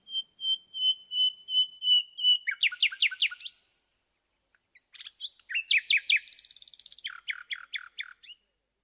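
A songbird repeats a steady series of pure whistled notes, then breaks into quick descending trills. After a short pause it gives another phrase of chirps and rapid trilled notes, clear and close against a silent background.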